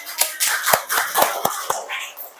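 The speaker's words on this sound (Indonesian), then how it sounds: "Tepuk tangan dulu untuk kelompok 1." A classroom group claps for the first team of students, with about seven separate sharp, close claps in an uneven rhythm, then a softer smear of noise at the end.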